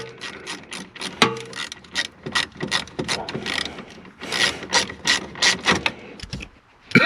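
A ratchet tightens down the gauge ground wire on a 1994 Chevrolet Caprice during an LS swap, with close, rapid clicking strokes repeated in quick bursts.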